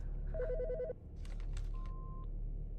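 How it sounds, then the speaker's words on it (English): A telephone rings in Autopsy Simulator, a short burst of trilling electronic ring tones followed by clicks and a single sustained beep, heard alone without talk. "The fucking phone."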